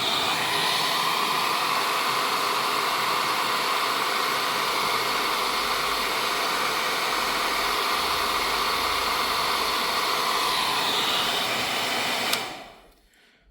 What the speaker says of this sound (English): You're going to turn on the blow dryer again.